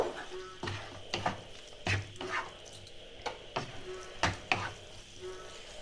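A spoon stirs and mixes pav bhaji in a hot pan, with repeated scraping strokes in an uneven rhythm over a low continuous sizzle, close and fairly quiet.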